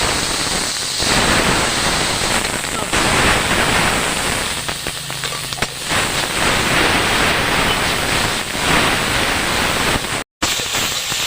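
Cumin seeds sizzle in hot oil during tempering for a Bengali prawn malai curry, heard as a loud, steady, close hiss of frying that barely changes and cuts out briefly near the end.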